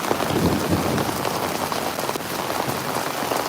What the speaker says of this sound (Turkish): Dolu yağıyor. Şiddetli bir yağmurumuz var bugün.